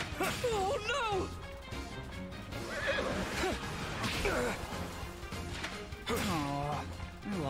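A horse in the video game Fire Emblem Engage neighs and whinnies loudly several times, with clattering hoofbeats and crashing battle effects, while a voice talks over it.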